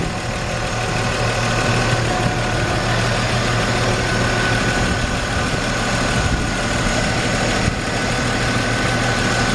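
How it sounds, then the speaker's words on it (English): A 1966 Chevrolet C-10 pickup's 250 six-cylinder engine idles close by, a steady, loud, even rumble with a low throbbing pulse that runs unchanged throughout. "listen to that engine, it sounds amazing"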